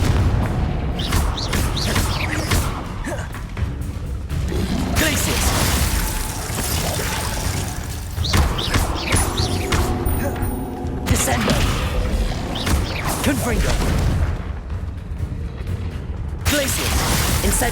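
Repeated booming spell blasts from Confringo and other spells in Hogwarts Legacy, loud explosive thuds and crackling bursts arriving in clusters over continuous combat noise and music.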